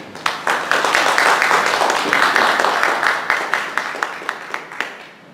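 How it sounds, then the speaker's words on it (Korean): Congregation in a church applauding to welcome a pastor, a dense, steady round of clapping that swells and then thins out into scattered claps. "다시 한번 박수로 환영해 주시기를 바랍니다."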